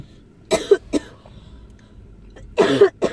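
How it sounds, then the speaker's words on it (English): A person coughs in two bursts, a couple of harsh coughs, a pause, then another pair, close by with quiet between. "You didn't even smoke anything, you're coughing."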